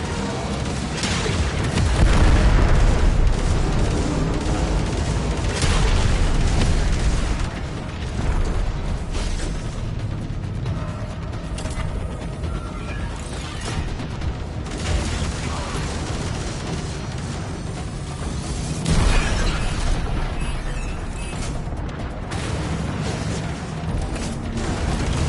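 Railjack ship weapons in Warframe fire in loud, dense bursts of booms and mechanical pops through much of the stretch, with brief spoken callouts mixed in.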